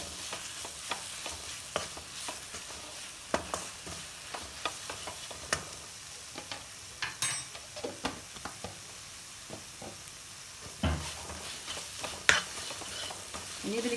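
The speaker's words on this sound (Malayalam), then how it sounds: "എണ്ണ ഇളക്കാം." Oil and garam masala powder stirred in a hot pan for egg biryani, with a soft steady sizzle broken by irregular scraping and clinking strokes of the spoon, close and without talk.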